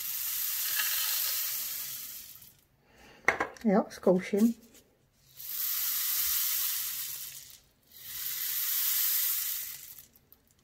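A homemade rain stick filled with beads is shaken in a few long rushing swooshes that rise and fall, loud and close, with a brief spoken comment in the middle.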